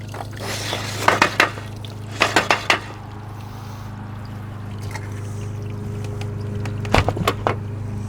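A pool filter diverter valve turned by hand, giving a few short bursts of plastic clunks and scraping over a steady low pump hum, with a final pair of clicks near the end.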